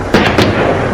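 Army grenade launcher fire in Kishtwar sounds as a sharp blast followed by a second burst, both close and loud over a rumbling background.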